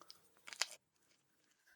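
A bite into crunchy seeded sourdough bread, a brief cluster of crisp crunches close to the mic, then near silence with faint chewing after.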